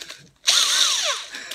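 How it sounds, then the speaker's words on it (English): A cordless power drill runs in a short burst during a Ford Transit van conversion, its motor whine rising then dropping in pitch as it winds down, loud and close with no talking. "So I'm gonna grab my drill"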